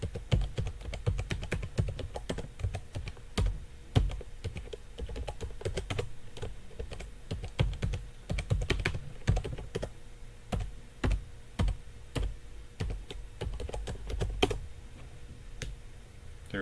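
Computer keyboard being typed on, entering a username and password, as a steady run of close, quiet key clicks with short irregular pauses and no voice.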